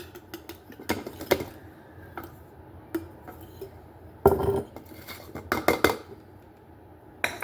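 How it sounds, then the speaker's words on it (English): Starch and baking soda being stirred together in a bowl, with quiet scraping and a run of light clinks and taps of a utensil against the bowl, close and intermittent with short louder bursts. "you're just going to mix that really well together"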